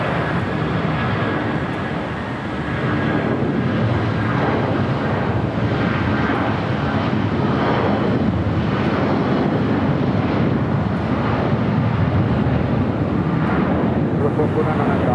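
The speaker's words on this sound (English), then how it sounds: "757-300 now rolling down." A United Airlines Boeing 757-300 jet rolling down the runway for takeoff at LAX, a loud continuous engine roar holding steady throughout, with voices talking over it.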